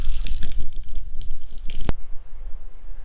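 Water rushes steadily from a SharkBite spigot fed by PEX down to PVC at a pole barn, a loud, close, hissing gush with a sharp click partway through.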